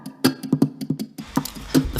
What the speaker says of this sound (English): stuff that to me sounded like hitting on the guitar